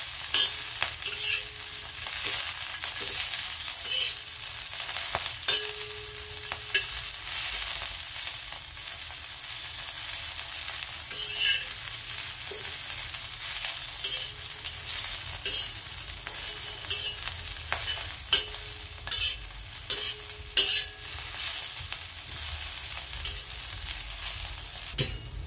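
Green chillies stir-fried in a pan until blistered, giving a steady broadband sizzle with frequent scraping and stirring clicks throughout, loud and close, with no voices.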